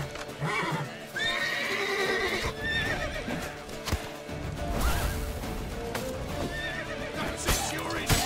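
A horse whinnies loudly amid clattering hoofbeats and crashing action sounds in The Witcher 3: Wild Hunt, with dense game-style effects filling the background.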